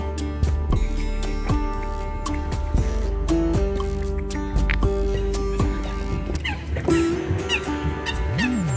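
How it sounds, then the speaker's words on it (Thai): Waterfowl honk and call repeatedly beside a large lake in southern Germany, over a busy, layered background, with overlapping calls rising and falling throughout. "เสียงนกเป็ดน้ำมา"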